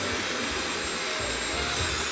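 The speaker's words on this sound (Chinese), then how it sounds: "先把头发吹干吧。" A hair dryer blows continuously at close range in a bathroom, drying freshly washed hair with a steady, loud whooshing roar that barely changes.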